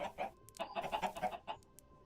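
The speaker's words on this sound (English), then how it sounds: "Look at those cute little chickens looking at me." Several small chickens cluck in a rapid, irregular series of soft, close calls, heard alone without talking.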